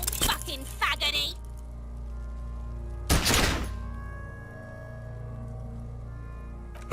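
A single sharp, loud gunshot rings out in the video game Disco Elysium, preceded by brief scuffling sounds and followed by a lingering low hum and faint ringing tone.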